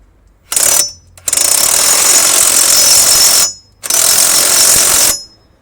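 An impact wrench tightens driveshaft bolts on a Volkswagen Polo 9N, loud and close, with a short first burst and then two longer sustained rattling runs separated by brief silences.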